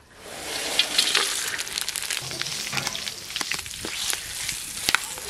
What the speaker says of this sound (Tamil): தாளிச்சாவுக்கு எண்ணெய் சூடாயிட்டு பட்டை வகையெல்லாம் சேர்த்துக்கலாம்.